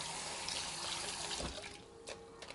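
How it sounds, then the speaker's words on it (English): Water runs steadily from a kitchen tap while hands are washed beneath it, a continuous soft splashing rush with a few small clinks, fairly quiet and close. "and then we wash our hands"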